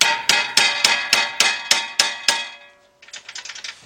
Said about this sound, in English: Get your little hammer.